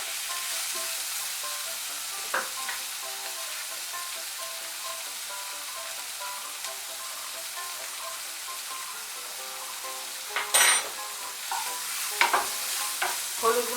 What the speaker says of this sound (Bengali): হলুদ গুঁড়োটা মিশিয়ে নিয়ে করলাটা একটু ভালো করে ভেজে নেব।